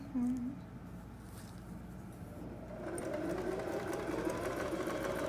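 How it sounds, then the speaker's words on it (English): A sewing machine runs a straight stitch along curtain fabric for Oriental-style curtains, a steady mechanical whir that starts quieter and grows louder and denser partway through, with faint background noise. "I'm just going to sew like I normally would. Just a nice straight stitch."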